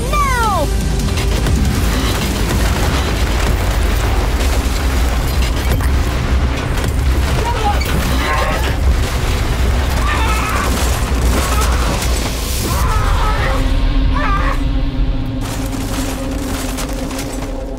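A rocket firing its landing propulsion, a loud continuous roaring rumble with deep booming low end throughout, overlaid with shifting tonal sweeps and rattling effects, steady and dense for the whole stretch.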